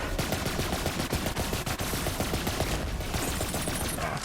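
Rapid bursts of gunfire from the Wester Gun in Borderlands 3, dense overlapping shots and impacts in a loud, sustained volley with no talking.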